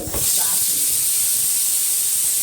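A pressure cooker whistle hisses with a sustained high steam jet while chicken soup cooks, steady and loud throughout after a short onset.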